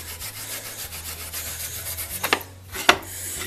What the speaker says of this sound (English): a little bit of alcohol on the steel wool, and we can give this a good cleaning